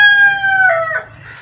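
A rooster crows in a village, two long drawn-out calls heard close and loud, one after the other, with a faint second bird or background murmur underneath and no talking.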